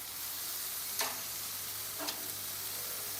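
Food frying in a pan during home cooking, a steady broadband sizzle hissing evenly throughout, fairly quiet, with two brief louder scrapes or stirs about a second apart and no talking.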